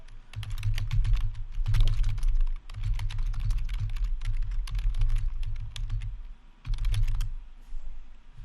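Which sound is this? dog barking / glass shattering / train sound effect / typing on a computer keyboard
typing on a computer keyboard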